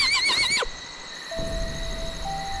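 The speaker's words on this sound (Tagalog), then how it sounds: "Doon galing yung kabayo!" A horse whinnies loud and close, a shaky rising and falling call that cuts off after about half a second, followed by quiet outdoor background in a remote rural sitio.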